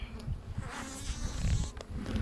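Honeybees buzzing steadily at an open Flow Hive during an inspection, a close, continuous droning hum with no talk over it.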